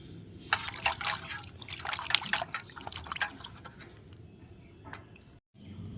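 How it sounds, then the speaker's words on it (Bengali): Tender okra being washed under running water in a kitchen gives soft, irregular splashing and trickling with a few brief wet clatters, fairly faint and close. "এবার আমি ভেন্ডিগুলোকে প্রথমে ভালো করে ধুয়ে নেব।"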